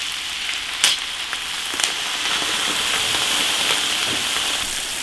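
Beer poured over bamboo shoots in an iron wok, giving a steady, moderate crackling hiss like light rain, with a few sharper spatters breaking through near the start.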